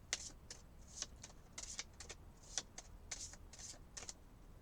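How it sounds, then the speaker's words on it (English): Tarot cards being shuffled by hand produce quiet, crisp riffling bursts, roughly a dozen short flicks in an uneven rhythm, close to the microphone with no talking. "So you're going to shuffle."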